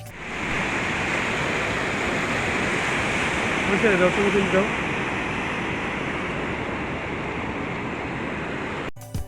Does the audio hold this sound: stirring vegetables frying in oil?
no